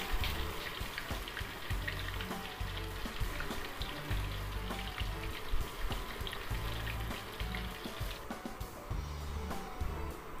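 Ghevar batter poured into hot ghee in a pan fries with a steady, dense sizzle and bubbling crackle, close and continuous throughout with no voices.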